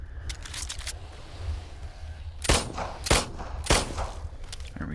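Gun in the Roblox game Brookhaven firing a quick burst early on, then three louder, evenly spaced shots near the end over a low background hum.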